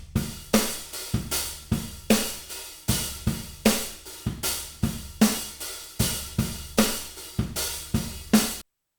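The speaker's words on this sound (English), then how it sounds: "if we listen to the overheads in isolation, we can hear that it sounds like this" Overhead microphones on a drum kit playing a steady groove with the original snare, with sharp, roomy snare and cymbal hits landing at a regular beat, loud and alone with no talking.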